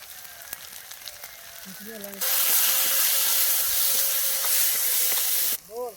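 Ginger garlic paste and turmeric hit hot oil in a pan and burst into a loud, steady sizzle that holds for several seconds after some quiet clinks, then cuts off abruptly.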